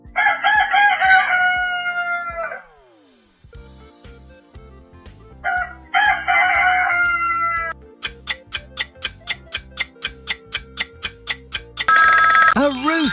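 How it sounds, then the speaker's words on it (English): A rooster crows twice, loud and close, each call a long rising-and-falling cock-a-doodle-doo, followed by steady ticking beats and a closing ringing tone. "A rooster!"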